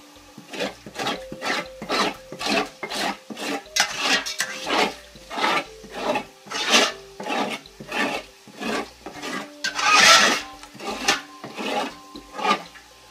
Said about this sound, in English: we want to scrape the bottom and get off all those good tasting bits